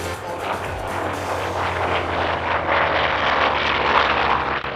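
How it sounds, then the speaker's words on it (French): Piston engines of a Lockheed P-38 Lightning roar during an airshow flyby, a loud, sustained propeller drone that swells and shifts as the aircraft passes the crowd. "entendre ces moteurs en marche pendant que le Lightning passait devant le public"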